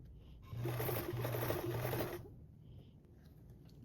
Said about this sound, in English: I'm just going to not stretch anything as I sew.